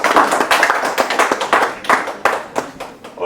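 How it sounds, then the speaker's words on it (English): An audience at a summit and awards event claps in a dense, brisk round of applause, close and loud, lasting a few seconds. "A round of applause for you, please."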